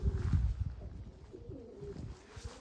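Pigeons cooing nearby, several low throaty coos overlapping in a steady rolling rhythm, with no talking.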